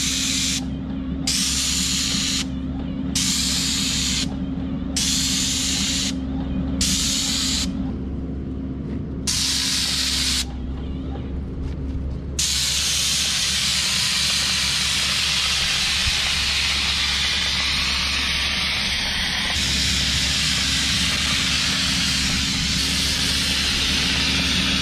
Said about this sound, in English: We're gonna spray the wall and back roll it.